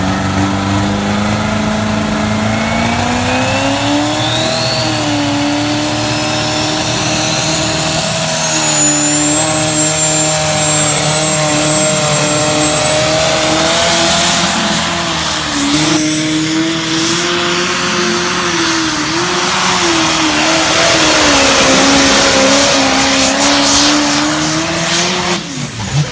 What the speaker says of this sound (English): Perkins V8, boy, I'll tell you, a different sound out of these engines.